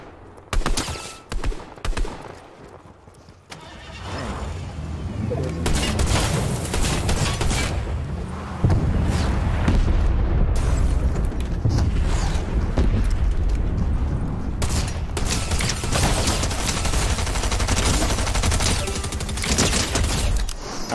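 Loud, continuous video game gunfire and blasts from a Fortnite battle with a drum shotgun, with dense overlapping shots and explosions filling the scene and no speech.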